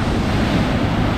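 Ocean surf washing onto a beach strewn with washed-up trash during a storm, heard as a steady, close roar of breaking water mixed with wind buffeting the microphone.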